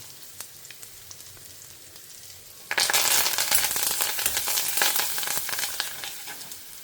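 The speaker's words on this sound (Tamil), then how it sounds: "கடுகு வெந்தயம் பொரிஞ்சு சவக்க ஆரம்பிச்சுடுத்து பெருங்காயம் போட்டுக்கலாம்." Mustard, fenugreek and cumin seeds fry in sesame oil, starting as scattered popping crackles and then bursting into a loud, dense, close sizzle after a few seconds that slowly settles, with no talk.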